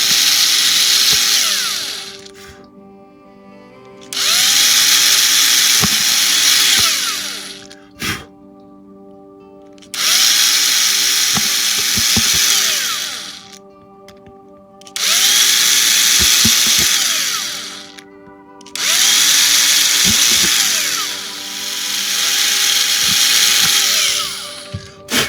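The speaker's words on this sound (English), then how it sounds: "we're going to have to drill the holes because I completely forgot about the holes for the windows" Freehand drilling of window holes in a model of the damaged U.S.S. Reliant with a small power drill, a high whining motor that runs in five bursts of about two to four seconds each, separated by pauses with soft clicks.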